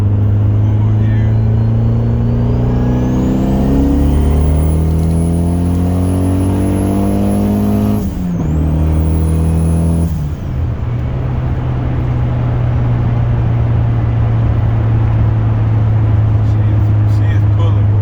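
Turbocharged Honda car running 17 psi of boost pulls hard through the gears on a test drive, engine tone rising steadily then dropping at a shift before climbing again, loud and close with a whistling turbo whine above the engine.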